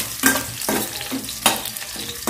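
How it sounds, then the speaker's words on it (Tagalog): Onion and garlic sautéing in a pan, a close, steady sizzle broken by four rhythmic scraping stirs of a spatula. "Gigisa ko lang yung ricado. Sibuyas, saka bawang."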